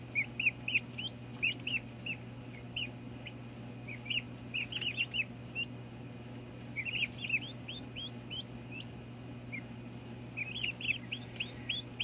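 Baby turkey chicks give faint, scattered high peeps in short clusters over a low steady hum, with occasional soft pecking, and no voices.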